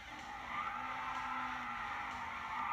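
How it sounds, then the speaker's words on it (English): Tires spin and squeal in a racing video game, a steady mid-pitched skidding whine under an engine drone with a low tonal hum, moderately loud and continuous for a few seconds with no talking. "let me spin the tires"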